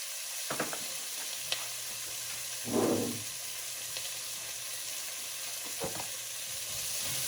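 Tomato paste stirred into braising oxtails and onions in a hot pot, a steady soft sizzle throughout with a brief louder scraping stir in the middle and a few light utensil taps.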